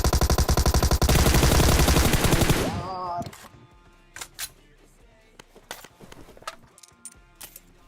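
Video game gunfire, a long rapid automatic burst that is loud and dense, followed by scattered single shots and sharp bangs at a distance.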